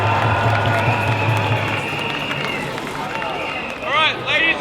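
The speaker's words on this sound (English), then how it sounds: "Give yourselves a round of applause." Protest crowd at Flinders Street Station clapping and cheering for themselves, loud and dense at first, then thinning under a murmur of voices and shouts, with a whistle-like chirp near the end.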